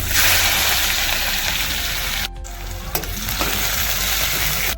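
Cumin seeds, grated garlic and green chili sizzle steadily in hot oil in a pan, a dense loud frying hiss that briefly drops when stirred and then resumes with a few small pops.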